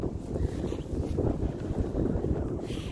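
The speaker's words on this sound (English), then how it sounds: "It's a little windy right now" Steady gusty wind buffets the microphone in a low, rumbling roar that continues throughout, close and fairly loud, with no other clear sounds.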